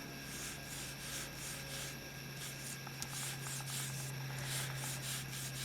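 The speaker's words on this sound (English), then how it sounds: "So I put my 2 fingers on each side to keep the brush really light and just run it across the embossing" Brush swept lightly across embossed paper on a pumpkin treat box, a faint close scratchy rustle in short repeated strokes over a steady low hum.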